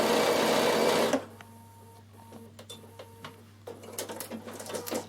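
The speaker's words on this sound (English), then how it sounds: "just simply move your needle position to the left and stitch down the left hand side" Sewing machine runs loud and steady for about a second while stitching down the side of a quilt clip, then stops, leaving quiet handling clicks and small taps before a brief rustle near the end.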